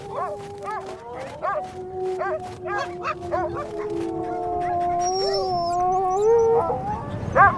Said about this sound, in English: A deep howl echoes through the mountains, and the entire pack is ready to unleash its full terror